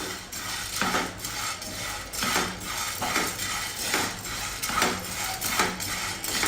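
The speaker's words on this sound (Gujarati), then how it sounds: "મરીને આવી રીતે થોડા આવતા જતા શેકી લેવાના છે." Whole black peppercorns being dry roasted and stirred in a pan, rattling and scraping in repeated sweeping waves, close and continuous, with no talking.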